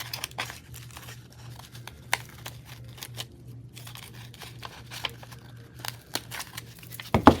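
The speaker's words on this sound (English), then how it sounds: "I'm trying to trim off that little piece of lace that's still hanging" Scissors snip off a loose hanging scrap of lace on a junk journal tag, with faint scattered clicks and light paper crinkling over a low steady hum, quiet and close.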